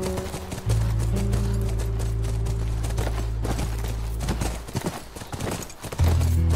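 Horse hooves clip-clop steadily in The Last of Us Remastered, a loud, continuous gallop close by that eases briefly before resuming, with no talking.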